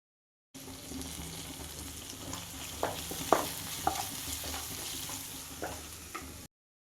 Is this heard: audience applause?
no